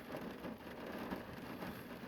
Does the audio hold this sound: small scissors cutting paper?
no